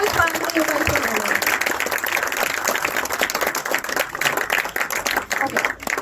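A school sports-event audience claps for a student winner of the 100-metre flat race, producing a continuous, fairly loud crowd patter with scattered sharper claps and voices mixed in throughout.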